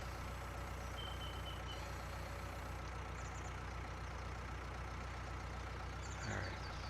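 A telehandler in Farming Simulator 19 idles with a low, steady, faint engine drone, and a few thin reversing beeps come in short bursts over it.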